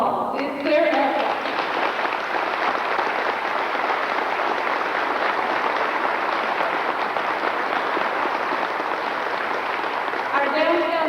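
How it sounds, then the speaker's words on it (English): Sustained applause from a presentation audience honoring partners and hard-working citizens, a dense, steady wash of clapping lasting the whole stretch, with a voice heard briefly at the start and again at the end. "please give these partners and these hard-working citizens a big round of applause"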